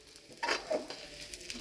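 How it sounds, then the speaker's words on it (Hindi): Pumpkin seeds and other seeds roasting in a pan while being made into methi laddoos give a soft, close sizzle and patter with a few gentle stirring scrapes, quiet and steady throughout. "और इसमें ये पंपकिन सीड और ये दूसरी सीड मुझे पता नहीं, ये भुनी जा रही है अच्छे से"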